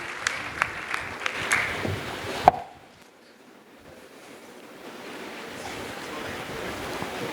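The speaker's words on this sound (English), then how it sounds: "Can we have a round of applause for all the people who have volunteered?" An audience claps briefly for volunteers, a short burst of scattered, fairly close applause that cuts off abruptly, leaving a low hiss of room noise and faint distant murmur.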